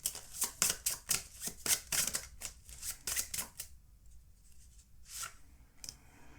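Tarot cards are shuffled in a quick run of crisp riffling snaps for several seconds, then a few softer slides follow as cards are drawn. The sound is close and quiet, with no voices.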